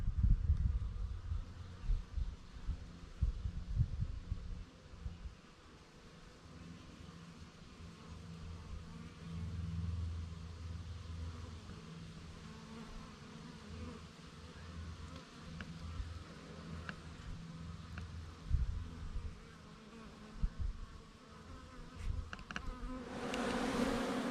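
Honey bees buzzing around a stacked hive of five-frame boxes, a continuous low droning hum with individual bees swelling closer and fading, no talking.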